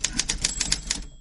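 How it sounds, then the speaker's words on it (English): Typewriter keys clacking in a quick, steady burst of about eight crisp strikes, loud and close, ending with a bright bell-like ding. "we're ready for the typewriter"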